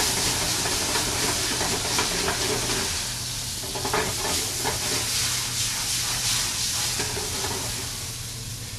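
Flames flare up over dancing beef as it cooks, a steady loud sizzle and hiss of frying running throughout with faint stirring and clatter, no voices.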